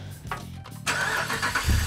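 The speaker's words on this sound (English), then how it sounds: "Let's do a cold start on this thing" A car engine cold start after air filter maintenance: a short cranking whir, then the engine catches and settles into a loud, close, steady idle.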